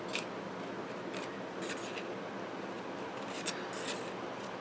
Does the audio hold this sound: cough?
no